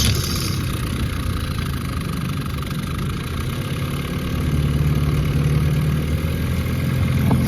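A jon boat's outboard motor runs at a steady idle with a continuous low, even drone and a slight rise in level toward the end, close by and with no talk over it.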